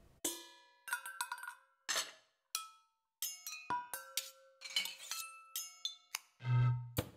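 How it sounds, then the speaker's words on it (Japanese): Kitchen utensils struck as found percussion give a string of sharp metallic and glassy clinks and pings, some ringing briefly, spaced irregularly across a quiet background, with one duller low thud near the end. "身の回りにあるものを叩いたりこすったりして新しいパーカッションを見つけてみよう"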